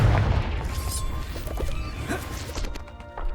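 A Confringo spell explodes in Hogwarts Legacy, a heavy blast and crash at the start that rumbles and fades under game ambience.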